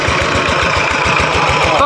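Engine of a Thai-made walking tractor idling, a steady close, loud chugging with regular low pulses that continue throughout.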